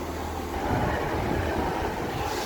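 A heavy Northern diesel train engine drones and rumbles nearby at Doncaster station as it departs, steady and loud, with a low throbbing undertone.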